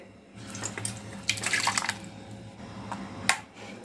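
Water splashes and trickles into a mixer jar holding blended spinach stems and mung dal in a few uneven bursts, close up, over a low background hum.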